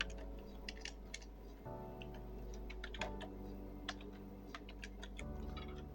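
Keys on a computer keyboard click in quick, uneven bursts while text is typed into a Word document, faint and close over a steady background hum.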